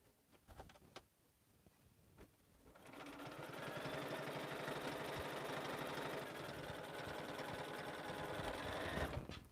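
A sewing machine stitching a lined stocking starts after a few quiet seconds and runs steadily at speed, a close, continuous rapid whirring buzz that stops abruptly at the end.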